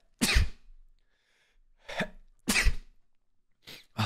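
A single loud, close sneeze bursts out at the start, followed by a few shorter sneeze-like bursts separated by silence, with no other sound around them.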